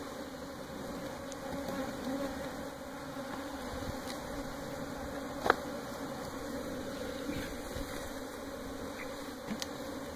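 A swarm of bees buzzing steadily during removal of a hive, a dense continuous drone close by with a few faint clicks and knocks, and no talking.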